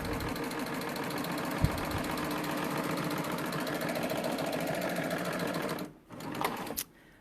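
A serger overlocker stitches fabric with a steady, fast mechanical whir and rapid rhythmic ticking that runs unbroken for several seconds, then stops abruptly, followed by a few brief clicks.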